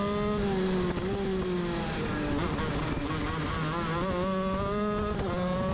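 Shifter kart engine, KZ or Honda, buzzing and braking into a turn on a track, pitch sliding down then revving back up, loud and continuous.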